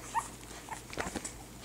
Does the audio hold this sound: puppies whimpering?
yes